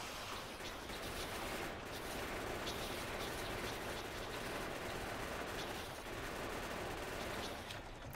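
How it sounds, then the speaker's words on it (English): A vehicle firing bullets while driving in the factory-building game Factorio: continuous rapid machine-gun fire blended with engine rumble, a dense unbroken barrage lasting throughout without pause. "I'm just holding space down and driving and hoping I hit something and mow the others down with my bullets."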